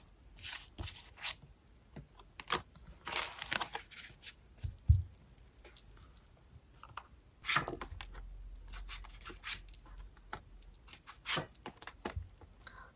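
Tarot and oracle cards are shuffled and drawn by hand, with irregular bursts of riffling, slapping and sliding, close and fairly loud, separated by short pauses and faint background noise.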